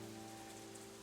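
Steady rain patters in the visual novel Katawa Shoujo, a quiet, even wash of falling drops with a faint low hum underneath and no voices.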